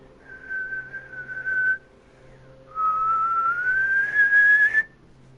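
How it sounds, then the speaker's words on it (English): A person whistles loudly with two long sustained tones, the first steady and the second gliding gradually upward, separated by a brief pause, close and clear against a quiet background. "I can whistle very loud."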